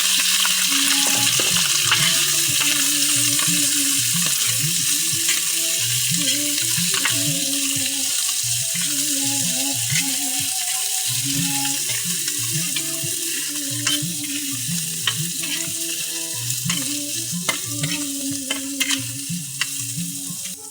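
Garlic chives (kuchay) fry in a hot pan with a close, continuous sizzle. Repeated scraping and stirring strokes keep an uneven rhythm throughout, and a few sharp utensil clicks come near the end.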